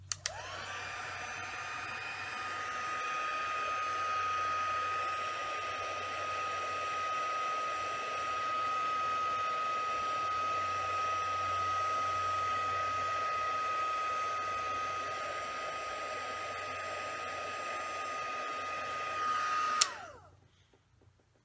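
A heat tool blows over embossing powder on a card, making a steady, close whirring hiss with a high whine that runs about twenty seconds before switching off abruptly.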